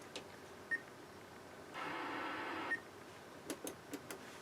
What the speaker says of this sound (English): And that horrendous beeping.